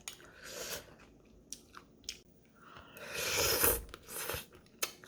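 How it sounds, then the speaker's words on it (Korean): Close-up chewing and biting of braised rockfish meat from a spicy fish stew, with moist crunchy mouth sounds in bursts and a louder stretch of mastication in the middle. "생선살도 한번 먹어봐야겠죠?"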